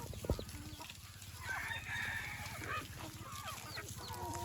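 A native country rooster crows once in a farmyard at a moderate distance, the call rising clearly over a low, steady background with some soft clucking from other fowl.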